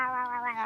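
Two cats squabble in a short, tense caterwaul, a drawn-out, rising and wavering yowl heard close and loud with no voices over it.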